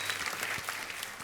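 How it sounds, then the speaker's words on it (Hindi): A studio audience at a television comedy show bursts into a brief, dense round of applause, loud and sustained with no talk over it. "तो एक बार जोरदार तालियां हो जाए पहले उनके लिए"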